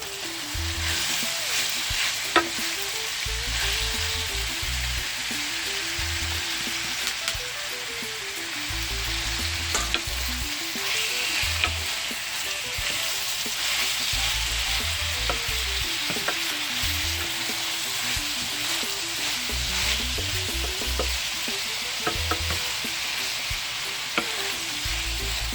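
Jamaican salt mackerel fries in a hot pan with continuous loud sizzling, and a utensil scrapes and stirs through it in repeated rhythmic strokes throughout.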